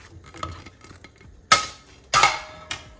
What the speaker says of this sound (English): So now I am going to add our plate full of potatoes